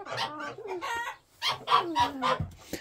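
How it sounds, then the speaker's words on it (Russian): Backyard hens cluck and chatter close by in short, irregular bursts, with a few sharper squawks between them and no talk. "От такі курочки."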